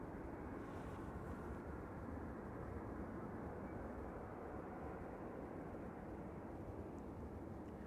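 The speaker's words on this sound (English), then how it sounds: "Shamrock Flight 603 to Dublin is now rolling. Another A320." An Airbus A320 on Shamrock Flight 603 to Dublin takes off from runway 09 at Amsterdam Schiphol. Its jet engines give a steady, distant low rumble that holds level throughout.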